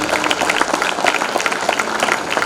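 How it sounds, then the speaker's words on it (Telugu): An audience of parents and guests at a school farewell gives a loud, dense burst of applause, steady clapping filling the hall with no pauses. "so based on this one ఒకసారి గట్టిగా చప్పట్లు కొట్టుకోండి మీకోసమే"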